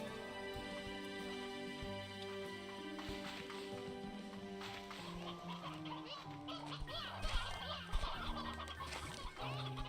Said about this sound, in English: That's a lot of chickens.